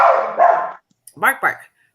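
A dog indoors gives a few loud, close barks in quick succession, with brief silence between them.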